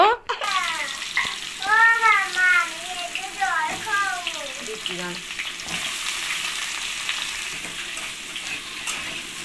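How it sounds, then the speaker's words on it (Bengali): Potatoes frying in hot oil in a pan, a loud, continuous close sizzle throughout, with a voice speaking over the first half. "এবারে আমি আলুগুলো ভেজে নেব"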